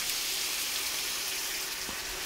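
About a quarter cup of water is poured into a hot frying pan holding a cooking egg, giving a steady, hissing, rushing sizzle that fills the moment at even loudness.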